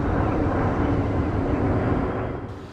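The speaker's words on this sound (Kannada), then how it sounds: "ವಿಮಾನ ಬಂತಿಪ್ಪ." Broadband engine roar of an airplane flying overhead above a village, loud and steady throughout, easing slightly toward the end, with no talking.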